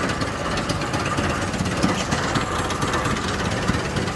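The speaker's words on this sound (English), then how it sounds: "Another little 4-cylinder engine. Nice compact, running really good for the guys." A small, compact four-cylinder tractor engine runs steadily in a pioneer days parade, giving a continuous rough, knocking drone with mechanical clatter at an even level and no clear talk over it.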